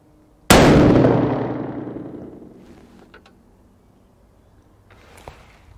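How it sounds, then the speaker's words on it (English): A single loud 6.5 PRC rifle shot firing Hornady 147-grain factory match ammunition, a sharp blast whose echo rolls away over about two seconds, followed by faint clicks and a small pop near the end. "Factory Hornady 147 match. Five shot group."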